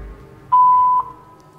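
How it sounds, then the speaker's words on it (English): A single voicemail tone sounds after a phone greeting, a clean steady beep lasting about half a second, loud and clear against near silence. "Please leave a message after the beep."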